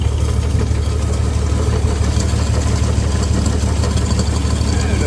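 A 1962 Dodge M37 military truck engine, running after sitting 45 years, idles steadily with a deep, low rumble and slight uneven pulsing from a misfire, loud and continuous.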